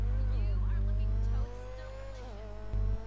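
A Grotti Carbonizzare in GTA V is opened up on the road, its engine holding a loud, steady high-rev drone that drops to a lower tone partway through, then surges briefly again, with faint tire noise.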